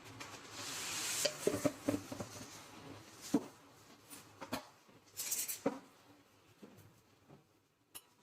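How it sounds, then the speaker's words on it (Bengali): Rice cooked with ghee being stirred in a pot, with soft scraping and clinking strokes and faint sizzling, close and fairly quiet with a few sharper utensil knocks. "এই যে ভালো করে একটু নাড়িয়ে নেব।"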